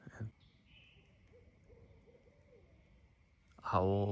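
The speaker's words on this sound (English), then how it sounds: "You guys hear the owl" Faint, low hoots from an owl repeat softly in a quiet outdoor setting, with brief speech at the start and end.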